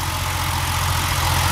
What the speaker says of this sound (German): Hier der Vario-Ram-Motor. 282 PS, Boxer